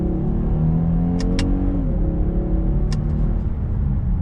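A 2020 Genesis G90 Premium accelerates with a smooth, steady engine hum while paddle-shift downshifts change its pitch, heard from inside the cabin with a few faint clicks over the drone.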